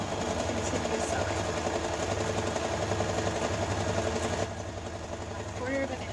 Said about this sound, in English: sew across my batting to the other side